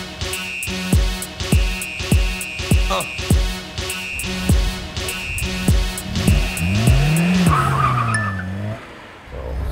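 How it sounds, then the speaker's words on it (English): An old VAZ-2101 sedan spins its tires in a burnout, rhythmic squeals and skids repeating about once a second, ending in a long sweeping screech and engine rise, loud and close. "Is it possible to make a burnout with this car?"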